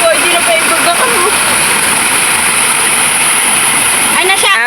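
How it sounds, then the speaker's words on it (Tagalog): Steady rushing water of a stream in Abra, Philippines, fills the clip, a loud continuous wash like water pouring over rocks, with voices faintly mixed in. "Agos ng tubig."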